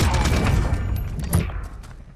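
Weapon gunfire in a video game: a dense, loud burst of rapid shots close up, then a single heavy report that trails off into quiet.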